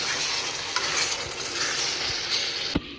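A spoon stirs mutton curry with curd in a hot pan, giving a steady close sizzle and frying hiss broken by a few light scrapes and knocks against the pan.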